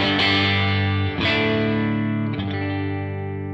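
An electric guitar is dug into hard through an amp set on the verge of breakup, giving three forceful, gritty strummed chords that ring loud and sustain between attacks.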